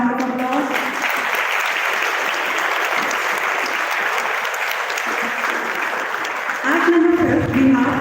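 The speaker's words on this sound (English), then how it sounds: "The audience, let's cheer the participants and give them a round of applause." A school debate audience applauds the participants in a sustained, dense burst of clapping that fills the hall, with a voice rising over it at the end.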